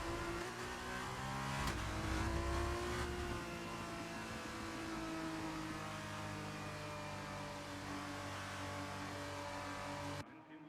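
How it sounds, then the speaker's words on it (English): Formula 2 race cars idling and revving as they line up on the starting grid at Imola in an F1 career-mode video game, a continuous loud engine drone with a brief rev surge early on, with no talk. "We are almost ready to start the Formula 2 race as the cars take their positions on the grid"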